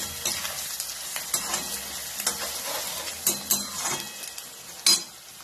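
Two large onions fry in hot oil for chicken masala, a steady close sizzle broken by scraping stirs and sharp utensil clinks against the pan, with no talking.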